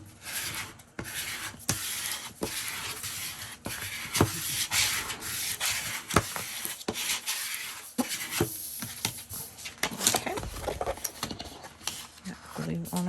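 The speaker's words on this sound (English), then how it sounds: "let's squeegee that down." A squeegee is rubbed firmly across the pages of an ephemera storage book, making close, repeated scraping and rubbing strokes that continue steadily throughout.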